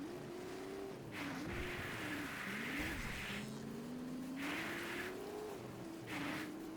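A car in the video game Fortnite drives and revs, its engine tone climbing and dipping in repeated surges with bursts of hissing noise, steady and continuous without talk.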